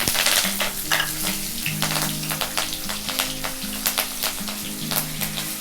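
Loud, steady sizzling and crackling of green chillies and curry leaves frying in hot oil for prawn fry, with scattered sharp pops and a faint tonal hum underneath, close and continuous.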